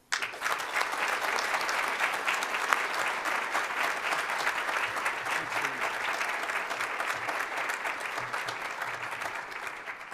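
A lecture audience applauds warmly to welcome the speaker, a dense, sustained clapping from a large crowd that holds steady for about ten seconds.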